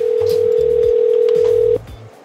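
A steady electronic telephone ringback tone hums for under two seconds, then cuts off, leaving quiet low background noise.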